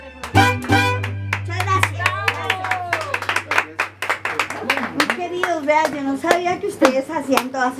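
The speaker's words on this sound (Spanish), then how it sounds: "Un aplauso bien bonito que se escuche." Scattered clapping breaks out at a Father's Day event with a youth mariachi group, coming in uneven bursts of hand claps. Someone speaks loudly over and between them.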